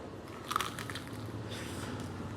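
A single crunchy bite into freshly cooked Filipino crispy pata, deep-fried pork knuckle, with a short crisp crackle close to the mic over a low steady background hum.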